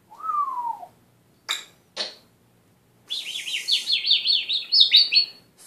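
An African grey parrot lets out a clear falling whistle, two sharp short chirps, then a rapid run of rising, warbling chirps, loud and close in a quiet room.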